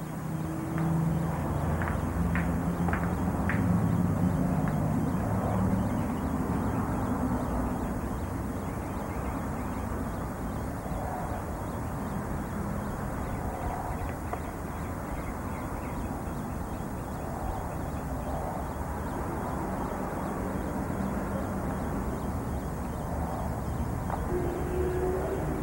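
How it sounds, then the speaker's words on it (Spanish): An emergency helicopter flies near a hospital in Los Angeles, its steady rumbling drone of rotor and engine holding at a fairly even, moderate loudness throughout, with a slightly stronger swell early on and no voices over it. "El helicóptero de emergencia."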